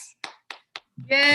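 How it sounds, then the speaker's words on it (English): A few slow, separate claps from a small group at a virtual campfire singalong, spaced about a quarter second apart, followed by a sudden bright tone or voice at the end. "Round of applause."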